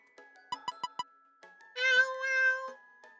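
A cat meows in the video game Lover's Enigma, a clear tonal meow after a quick series of four soft taps, close and alone, with no talk.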